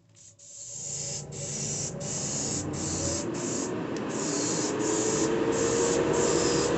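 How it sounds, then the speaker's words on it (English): An airbrush sprays yellow paint onto a jerkbait lure, giving a steady, close, loud hiss that runs almost unbroken. Brief, regular dips in the spray interrupt it. "Now I'm going to do my yellow. I have not cleaned the airbrush yet."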